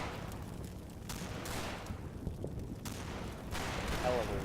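Mortar and artillery fire in the WWII tactical game Combat Mission: Battle for Normandy, a series of repeated blasts and booms spread through the clip with a steady rumbling battlefield background.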